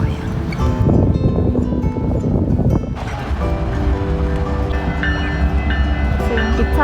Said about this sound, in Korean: 지금 기차가 지나가고 있어요.